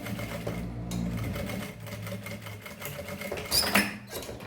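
A sewing machine runs a topstitch seam with a backstitch on a mesh fabric pouch, its needle chattering in quick continuous bursts that break and resume, with a brief sharper burst near the end.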